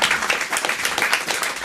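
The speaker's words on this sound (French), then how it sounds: "On vous applaudit" Studio audience applause on a French television talk show, a dense steady wash of many hands clapping at close range with no talk over it.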